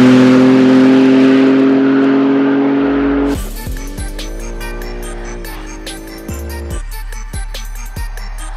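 A BMW M4 G82 engine revs after a few seconds of steady tonal hum. The engine note climbs and settles in loud, close sweeps over a deep rumble, with sharp clicks scattered through it.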